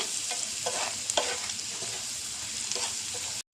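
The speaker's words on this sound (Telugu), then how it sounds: "ఒకసారి కలుపుకోవాలండి బాగా" An egg mixture seasoned with pepper powder and salt is stirred in a sizzling pan, a constant close hiss with several spoon scrapes, ending in a brief cut to silence; nobody talks.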